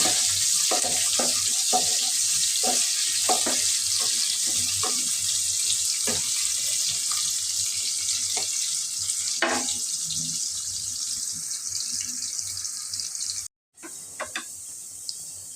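Onion fries in a pan with a continuous bright hiss, punctuated by irregular clicks and knocks of a utensil, with a brief dropout near the end.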